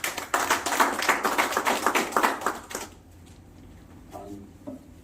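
A crowd at a meeting applauding the chairperson, a brisk round of clapping for nearly three seconds that then fades to quiet room tone with a few faint stray sounds.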